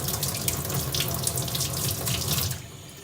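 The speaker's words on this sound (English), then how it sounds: "And we just put water on it until we start to see the image come through." Water runs steadily from a tap onto a wooden coaster, a loud, close, continuous splashing rush that drops off abruptly near the end.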